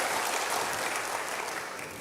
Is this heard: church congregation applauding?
yes